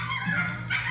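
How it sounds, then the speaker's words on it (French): A short, close whimper from dogs, a thin high whining cry lasting under a second with no speech. "j'aime pas entendre les chiens couiner comme ça"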